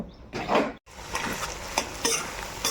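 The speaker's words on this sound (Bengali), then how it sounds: "বাদাম দিয়ে দেওয়ার পর নেড়ে চেড়ে দিতে হবে" Peanuts are stirred as they fry in a pan with turmeric, with a steady sizzle under repeated scraping and clattering of the spoon, close and fairly loud, broken by one brief dropout near the start.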